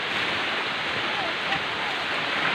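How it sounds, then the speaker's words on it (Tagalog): Dense, steady roar of heavy rain, a constant hiss that fills the whole clip without a break. "Lakas po ng ulan."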